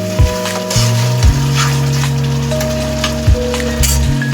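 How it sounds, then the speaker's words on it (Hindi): Tomatoes frying in a pan for a raw banana curry, with a steady sizzle throughout and a few clinks and scrapes of a spoon stirring against the metal. "अब टमाटर को अच्छी तरीके से भून लेंगे।"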